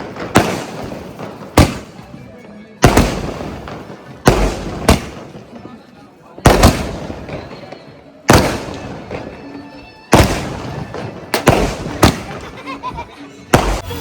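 A whole box of firecrackers goes off at a birthday celebration, with about a dozen sharp, loud bangs in an uneven sequence, each followed by crackling and a decaying echo.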